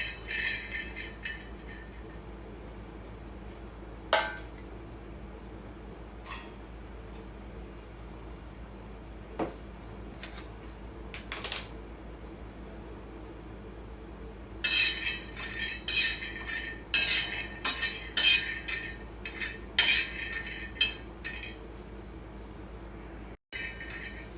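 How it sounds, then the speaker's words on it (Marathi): Raw peanuts dry-roasting in a pan over a gas flame for sabudana khichadi, stirred with a metal spatula: sparse clinks and scrapes at first, growing into busier rattling and scraping bursts later on, fairly close, with no talking. "आपले शेंगदाणे भाजतात, बघू शकता तुम्ही"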